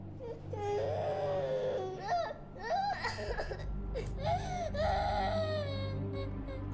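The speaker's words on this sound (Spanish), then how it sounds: "los dos escucharon algo, el llanto de un bebé que parecía venir de lejos" Baby crying in a story sound effect, a run of wailing, sobbing bursts with whimpers in between, fairly clear and somewhat distant.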